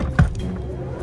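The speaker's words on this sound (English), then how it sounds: "there's actually something you do remotely, and open the door and wake Carter up" A Tesla car door opening by remote command: a short motorized whir with a soft thump near the start, then a fading mechanical hum, close by and without speech.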